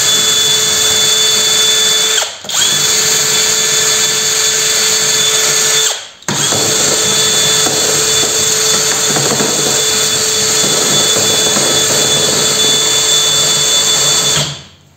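A mini wire brush spins fast on a power drill, scouring metal with a loud steady whine and grinding rasp, broken by two brief stops around the restarts and ending abruptly.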